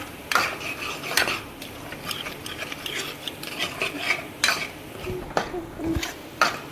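Gram flour being stirred into a spiced tempering in a pan for bottle gourd kofta curry, with repeated scraping and clinking of a utensil against the metal pan at an irregular rhythm, close and fairly quiet.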